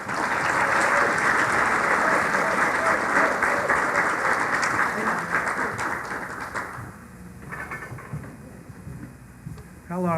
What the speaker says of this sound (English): thank you everyone for that warm applause